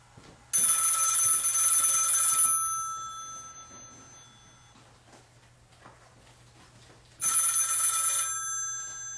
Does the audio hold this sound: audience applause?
no